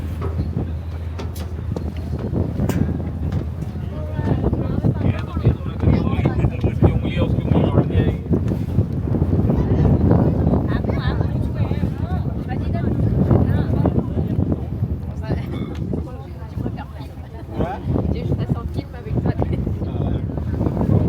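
Strong wind gusts batter the microphone on a boat deck in Halong Bay, Vietnam, over a constant engine-like rumble, while people talk intermittently in the background.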